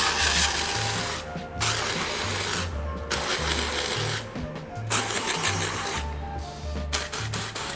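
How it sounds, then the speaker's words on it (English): Bursts of hair texture spray aimed at the ends of the hair hiss in several long pulses with short gaps, loud and close, over a low rhythmic background beat. "I'm gonna spray a little bit more texture spray through those ends."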